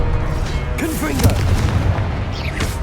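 A Confringo blast spell detonates in a Hogwarts video game, a booming burst followed by crackling debris, with a voice heard around it.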